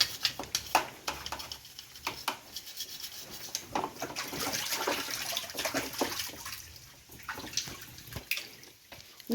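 Water running and splashing as cow milking machine parts are washed by hand, with irregular gushes and drips from a tap close by, fairly quiet and without talk.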